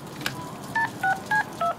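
A phone is dialed in the Deadpool video game: a short tone followed by four distinct touch-tone beeps in quick succession over a low background hum.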